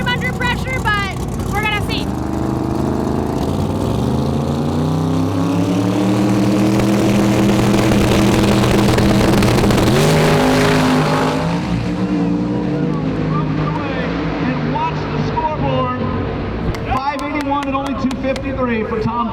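An NHRA drag-racing street car makes a record run, its engine screaming close and loud as the pitch climbs steadily and then fades away. An announcer talks excitedly over the roar throughout.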